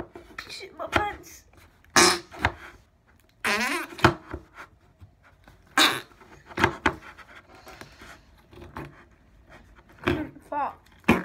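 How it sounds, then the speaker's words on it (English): Several short, wet, sputtering fart noises burst out at irregular intervals, some loud and close, with voices talking and reacting between them. "Come on, freaking fart."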